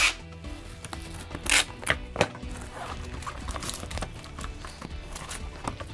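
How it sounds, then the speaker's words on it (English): A tape gun seals a cardboard shipping box holding a cymbal, making a few sharp screeching pulls and rasping tears among rustling and handling noises, close and fairly loud. "You're going to need a real tape gun, not just the pretty tape."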